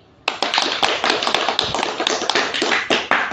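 A classroom of students claps for a classmate, a quick, lively burst of many hands starting abruptly and continuing steadily, close and loud with no talk over it.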